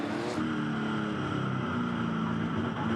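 A 1970 Chevrolet Camaro touring race car at Adelaide, its engine a steady loud droning roar with no clear breaks.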